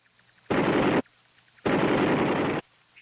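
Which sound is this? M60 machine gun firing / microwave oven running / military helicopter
M60 machine gun firing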